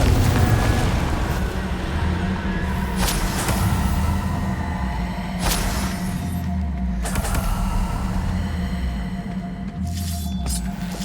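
Confringo blasting spell from Hogwarts Legacy, heard as several sharp booming explosions spaced a few seconds apart over a steady low rumble of game ambience.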